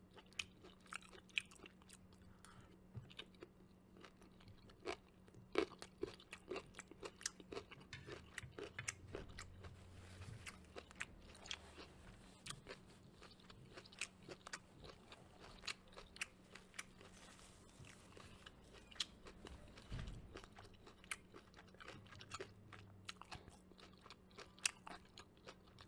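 Close, quiet chewing of broccoli and tofu, with crisp crunches and soft wet mastication repeating in an irregular rhythm, alone, with no talk.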